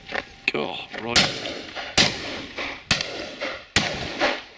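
Shotgun shots ring out during a pheasant and partridge shoot, four sharp loud blasts spaced about a second apart, with excited voices talking between them.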